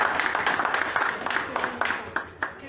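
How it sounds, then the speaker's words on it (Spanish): An audience claps at a religious tourism gathering, a dense crowd applause of rapid overlapping hand claps, fairly close and sustained, with a voice faintly beneath. "Un aplauso bien fuerte para ellos."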